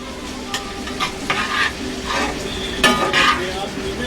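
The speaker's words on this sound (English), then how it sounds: "And I will mix it together until all the meat has a nice subtle red color from the paprika and chili powder." Spiced taco meat with paprika and chili powder sizzles in a pan while a utensil stirs and scrapes it in irregular close strokes over a constant frying hiss, with no talk.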